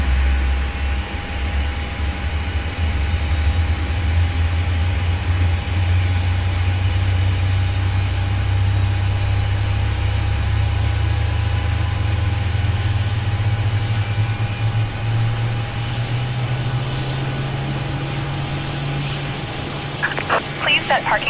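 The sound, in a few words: airliner engine number 2 starting, from the video game Microsoft Flight Simulator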